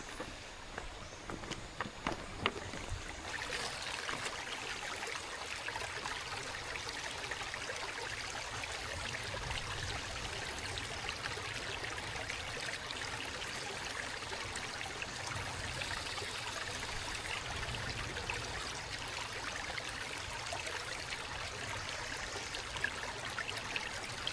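A stream of flowing water runs steadily along a wilderness hiking trail, a continuous broadband rush that fills the whole stretch at moderate loudness, with a few rustles and steps near the start.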